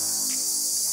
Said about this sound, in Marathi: रातकिड्यांचा आवाज येत असेल.